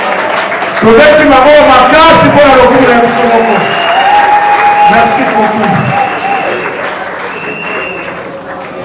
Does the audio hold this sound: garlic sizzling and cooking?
no